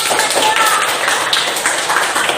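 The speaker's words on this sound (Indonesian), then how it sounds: "Tepuk tangan." A classroom of students claps hands together, a dense burst of quick claps at steady loudness with no talk over it.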